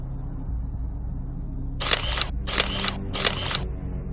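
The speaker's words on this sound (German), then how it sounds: "schießt mit seiner 35mm Kamera zwei Fotos der vorbeirasenden Scheibe" A 35mm camera's shutter clicks three times in an even rhythm, each click crisp and close, over a low steady background hum.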